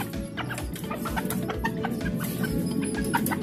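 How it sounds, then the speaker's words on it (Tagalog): Shamo and native chickens clucking close by, a busy overlapping chorus of short clucks and chirps from several birds, continuous throughout. "May manok pa po tayo dito."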